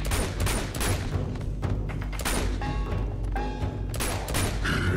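Dense, continuous gunfire from a shooting video game, with rapid bursts and heavy booms layered over a sustained roar, loud and busy for the whole stretch, with some electronic game tones mixed in.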